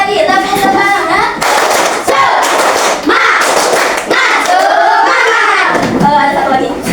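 A class of children claps in a quick rhythmic pattern led by a teacher, sharp loud hand-claps in bursts, with children's voices shouting together between the claps.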